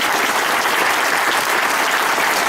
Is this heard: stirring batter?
no